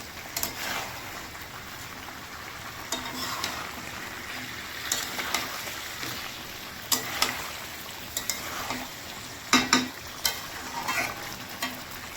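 Chicken curry pieces fry in oil with onions in a pan, making a continuous close sizzle broken by repeated stirring and scraping clicks. No one speaks.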